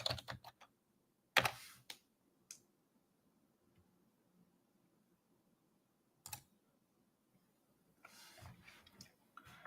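Computer keyboard typing, a few short bursts of quiet clicking keystrokes separated by long silences, with a longer patter of keys near the end.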